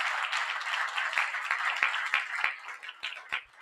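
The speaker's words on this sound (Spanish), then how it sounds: "me gustaría un fuerte aplauso para José Luis Medina" A seated audience at a talk on collective management organisations applauds the director general with dense, even clapping that thins slightly toward the end, a few individual claps standing out.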